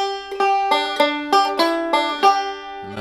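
Banjo playing a tag lick high up the neck: a quick series of bright plucked notes with ringing sustain, close and clear, ending on a lower note.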